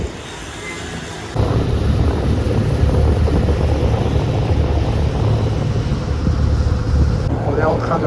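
Small hired boat motoring along a river in northern Vietnam, its steady engine drone and rushing water with wind buffeting the microphone, loud and continuous throughout.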